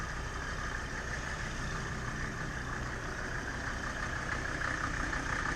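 A 1992 Mercedes G-Class 250GD with a 2.5 liter five-cylinder turbo diesel idles in a steady, low, rumbling clatter. It stays even and fairly quiet throughout, with no voices.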